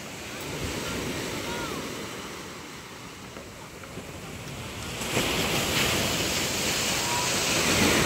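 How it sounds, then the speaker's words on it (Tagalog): Waves crash and surge against a small boat amid steady wind buffeting the microphone, growing rougher and louder toward the end. "Binubugbog na ng alon natin bangka."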